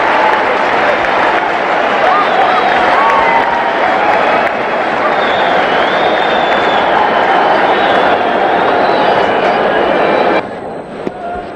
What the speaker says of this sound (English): a lot of people in the stand standing up and applauding